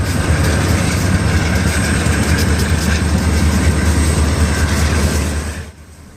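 Conrail freight cars roll past continuously in Detroit, a loud steady rumble with faint wheel clatter, then the noise drops off sharply near the end as the last car clears.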